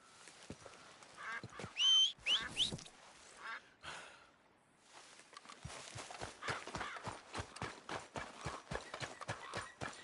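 Horse hooves clip-clop in a steady approaching rhythm on the ground in the Red Dead Redemption 2 video game, preceded by a few honking and squawking calls, the hoofbeats growing clearer and regular toward the end.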